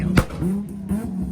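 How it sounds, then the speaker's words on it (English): A Hyundai Genesis at a car meet revs hard, giving a loud close blip with a sharp pop, then a second rising rev, all in under two seconds. "That Genesis is popping flames, man."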